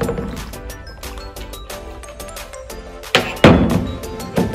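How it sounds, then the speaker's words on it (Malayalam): Ice cubes dropped into a cocktail shaker while making a Painkiller rum drink, a string of close, hard clinks and thunks, ending in a few louder heavy clatters as more ice falls in. "ഷേക്കർ ഐസ് ഇടാം."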